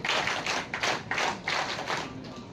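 An audience at an Indian Scouts and Guides ranger centenary event claps together in strong, rhythmic bursts that pulse steadily, fairly close and loud, with no voices over it.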